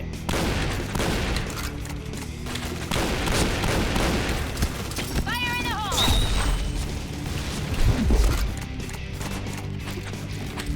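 Pistol fire and grenade blasts in the first-person shooter game Point Blank, with rapid bursts of shots and a few booming explosions under a voice and game effects.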